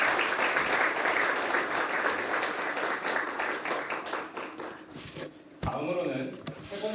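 Applause from the audience at a public hearing on judicial reform, dense sustained clapping that fades out, after which a voice starts speaking near the end.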